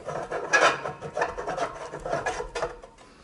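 Steel pole sections of a stainless steel patio heater stand being screwed together, giving a close, repeated rasping and rubbing of metal threads in short uneven bursts, with no talk.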